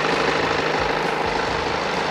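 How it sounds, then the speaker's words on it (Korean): A BMW 320d F30 diesel engine idles steadily, a low, even rumble with a fine knocking texture, heard close up from the engine bay with no talking. "그리고 엔진 소리 일정하고 좋습니다."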